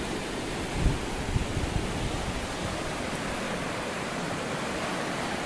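Resurrection Creek near Hope, Alaska runs high with early-season snowmelt, rushing beneath a footbridge as a dense, continuous broadband roar with a few faint bumps near the start and no talking.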